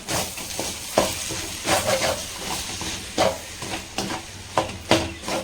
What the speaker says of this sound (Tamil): டொமேட்டோ சாஸ் இப்போ மிக்ஸ் பண்ணிக்கலாம்.